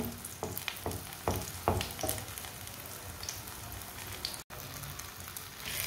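A radish paratha cooks on a hot griddle, a soft steady sizzle with a few sharper crackles and taps early on, fairly quiet and with no talking.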